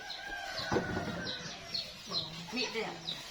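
A chicken gives a series of short, repeated clucks at moderate distance, with people talking in the background.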